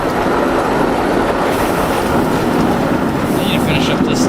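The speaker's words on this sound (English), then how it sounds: "there's a train that's about to enter the station" A theme park ride train in a video game, a Silver Dollar City recreation, rolls into the station with a loud steady rumble and rattle of wheels, with faint squeals toward the end.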